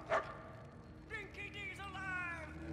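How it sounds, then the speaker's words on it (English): A dog in the Mad Max video game gives a sharp bark, then a few whining yips and whimpers, faint and somewhat distant over low background rumble, with talking nearby. "I can hear the dog"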